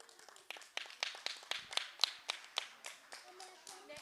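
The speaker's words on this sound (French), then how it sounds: "Applaudis pour notre camarade" A small audience claps for a prize winner at a student festival award ceremony. The claps are sparse and distinct, fairly faint and uneven in rhythm, with a few voices murmuring underneath.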